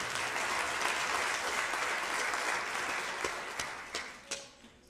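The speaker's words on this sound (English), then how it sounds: "give yourselves a round of applause for coming out today" Audience applause at a Black History celebration event, a sustained wash of clapping from a crowd that thins into a few scattered claps before fading.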